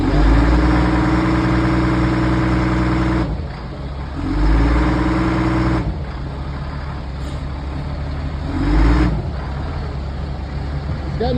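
An LMTV fire truck's diesel engine without a turbo, missing a turbo tube, idles with a steady low rumble that swells and dips in loudness a few times. It sounds close and loud and stands alone with no talk.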